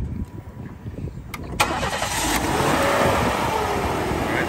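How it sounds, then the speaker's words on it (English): A 1994 Oldsmobile Cutlass Supreme is started: a few quiet clicks, then the starter cranks and the engine catches, settling into a steady, fairly close idle. "Go ahead and fire it up, Cody."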